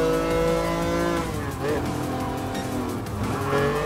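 A mid-engine sports car races in Gran Turismo Sport, its engine roaring loud and close with a rising then falling pitch through gear changes and a brief dip, with voice faintly present.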